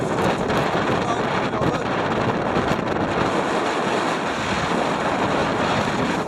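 Steady wind buffeting a microphone on the hilltop of Mam Tor, a constant loud rushing roar with no pauses, and someone speaking faintly beneath it.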